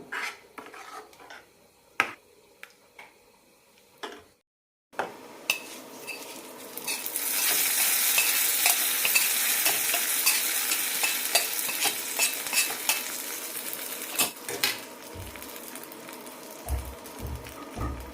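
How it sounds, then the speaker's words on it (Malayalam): Mustard seeds and curry leaves hit hot oil with a sudden loud, sustained sizzle and crackle, preceded by a spoon stirring and clinking against a pan, the sizzle gradually settling toward the end. "കടുകും കറിവേപ്പിലയിട്ട് താളിച്ചെടുക്കാം."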